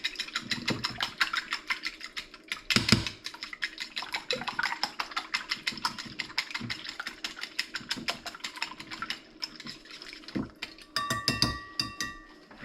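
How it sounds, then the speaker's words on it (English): Three raw eggs are whisked in a bowl, a fast, even rattle of rapid metallic taps that runs for several seconds with a few short pauses, close and fairly quiet. "give them a whisk up"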